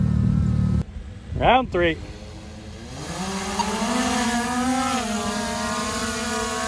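A Dodge Dakota pickup revs during a burnout, its engine note climbing and then holding a steady, loud drone. A short spoken phrase and a brief burst of noise come before the engine builds.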